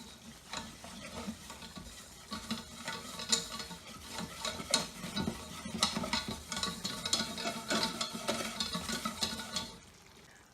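A butter and flour roux for lasagne is stirred in a pan, giving rhythmic scraping and clicking of the utensil against the pan over a faint sizzle, close and steady, with no talk.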